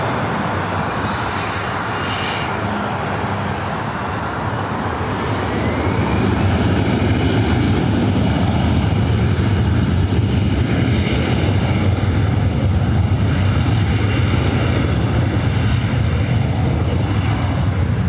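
Airliner taking off from runway 24 right at LAX, a loud continuous engine roar that swells after a few seconds and holds strong and steady, with a rising whine in the background.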